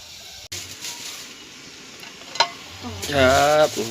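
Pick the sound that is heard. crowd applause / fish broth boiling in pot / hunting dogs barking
fish broth boiling in pot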